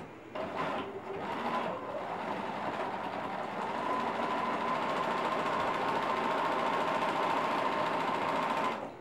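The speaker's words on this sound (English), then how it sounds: "using a 1/4 inch seam allowance, you're going to sew all the way down" Sewing machine running steadily along a 1/4 inch seam on a fabric tablet sleeve, with a brief stop-start at the beginning and then a continuous close mechanical whir.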